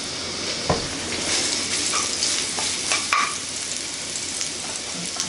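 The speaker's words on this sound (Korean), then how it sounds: "달궈진 팬에 식용유 두르시고 마늘을 먼저 넣어주세요" Garlic sizzles in hot cooking oil in a preheated pan: a bright, continuous frying hiss, close and fairly quiet, with a few clinks and scrapes of stirring.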